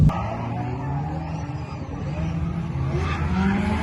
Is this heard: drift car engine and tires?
yes